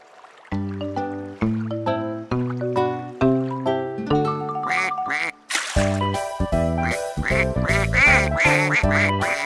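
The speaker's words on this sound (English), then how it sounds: "Six little ducks live down the way." Cartoon ducks from a kids' learning show quack in a lively, repeated pattern set to a bouncy children's tune, the quacks loud and close, growing denser and busier toward the end.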